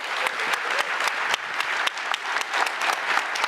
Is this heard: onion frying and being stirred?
no